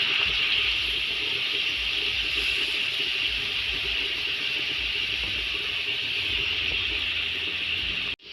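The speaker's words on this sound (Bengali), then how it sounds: "অল্প জল দিয়ে দিব" A steady hiss of water poured or bubbling into a pan of pabda fish mustard curry, close and constant for several seconds before cutting off abruptly.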